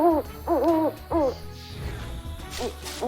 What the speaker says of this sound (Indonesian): Burung hantu memandu Sammy ke pondok penyihir